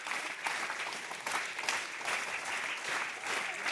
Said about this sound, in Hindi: नीचे ताली।